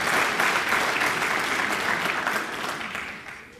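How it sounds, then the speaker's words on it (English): A crowd at a rally breaks into dense, lively applause that stays strong for a couple of seconds and then gradually fades, close and fairly loud. "Can we give her a round of applause,"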